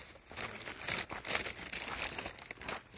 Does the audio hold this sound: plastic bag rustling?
yes